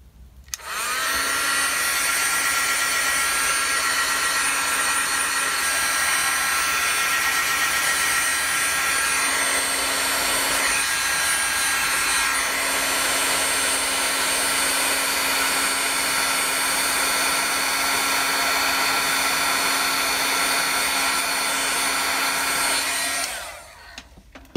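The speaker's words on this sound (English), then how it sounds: "I don't like you guys to hear me, you know, using my heat tool to heat this" A crafting heat tool runs steadily and loudly for over twenty seconds with an even, whirring blower hiss and a constant hum, starting and stopping abruptly, no talking.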